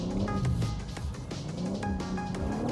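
A BMW M3 Competition Touring wagon drifts on the Toruń track, its engine revving and surging with tyre noise. The sound is fairly distant and subdued, with no talk.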